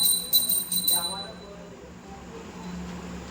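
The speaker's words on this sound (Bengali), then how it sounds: "ঠাকুরের কাছে গিয়ে ঘন্টা বাজাও" A small hand bell for worship at a household deity shrine rings in a few quick bright strokes near the start and then fades. Low background hum and faint voices continue afterward.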